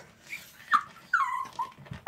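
A dog hidden under a bed whines in short, high, wavering whimpers, two or three close, plaintive cries with small gaps between them.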